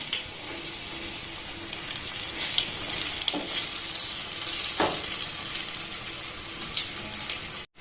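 Onion pakoras sizzle and crackle steadily in hot oil while being turned, with a couple of brief sharper scrapes from the turning partway through; close and fairly loud, no talking.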